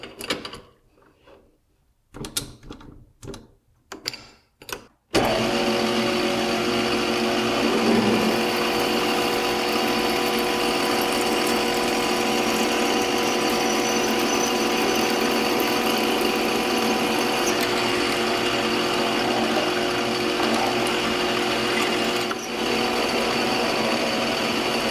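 A drill on a metal mill handle runs continuously for about twenty seconds, punching a clearance hole all the way through with a steady mechanical whine and hum, after a few seconds of short knocks and handling sounds.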